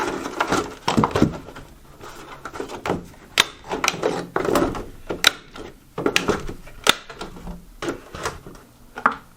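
Staples being driven by hand to secure ceiling reinforcement for drywall during a home renovation, a series of sharp, close clacks and rustles in an irregular rhythm.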